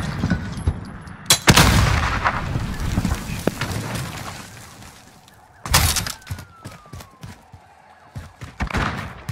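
Gunfire in a Search and Destroy video game match: several sharp, loud shot bursts near the start, middle and end, separated by quieter stretches of in-game ambience.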